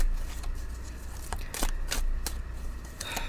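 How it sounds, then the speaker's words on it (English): Tarot cards are shuffled in a few quick riffling bursts, crisp papery flutters spaced about a second apart, close by over a faint low hum. "I'm putting these back down, and we're going to shuffle again."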